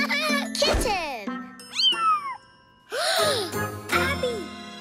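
Cartoon kitten meowing in a children's animated show: several sweeping, squeaky meows mixed with bright jingles and chimes, with cartoon voices around them.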